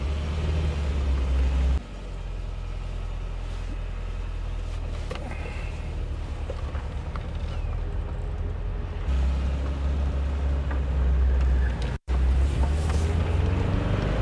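An old Porsche, driven for the first time in 25 years, rumbles along with a low engine and road drone, shifting in level a couple of times with a brief dropout near the end.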